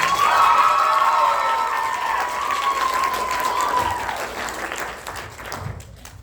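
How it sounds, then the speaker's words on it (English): An audience at a youth theatre cabaret applauds loudly, dense clapping with some cheering that gradually thins and fades away. "Let's give a round of applause for Reagan out there."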